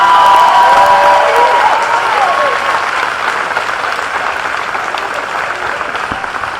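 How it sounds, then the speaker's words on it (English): Stadium crowd applauding at a PDL under-23 soccer championship trophy ceremony for all four teams, a broad sustained wash of clapping that slowly fades, with a voice over the public address system at the start. "How about a big round of applause for all 4 teams?"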